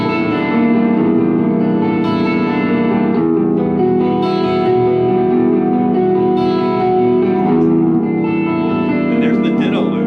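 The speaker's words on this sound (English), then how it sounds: "So here's the riff." An electric guitar riff runs through a Ditto looper pedal, producing sustained, distorted chords with echo and reverb that play continuously at a loud, even level.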